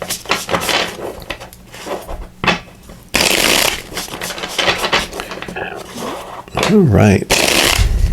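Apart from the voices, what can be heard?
shuffling tarot cards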